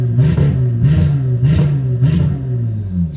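A Porsche engine revving hard, loud and close, in several rhythmic surges of throttle about every half second over a deep rumbling idle.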